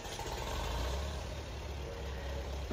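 A tractor engine in Farming Simulator 22 idles and runs with a steady low rumble, continuous and fairly loud throughout with no talking.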